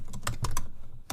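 Several distinct computer keyboard keystrokes in quick succession, close and crisp, as a filename is typed into a Python interactive shell, followed by a short pause and one final key press.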